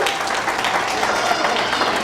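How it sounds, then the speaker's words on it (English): Crowd at a campaign announcement gives Gretchen another round of applause, a dense steady clapping from many hands filling the room for a couple of seconds. "Give Gretchen another round of applause,"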